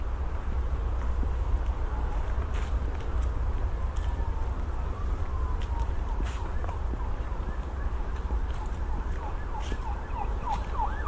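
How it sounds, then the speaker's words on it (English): Wailing sirens rise and fall repeatedly at a moderate distance over a steady low rumble of traffic, with occasional sharp clicks. "There's the police sirens again."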